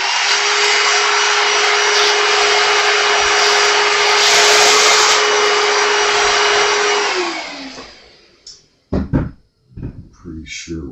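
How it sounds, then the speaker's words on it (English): A power drill bores into a brand-new Jazz Bass guitar body, a loud steady whine with a constant pitch that runs for about seven seconds, then winds down before brief talk. "It's always fun to drill into a brand new guitar."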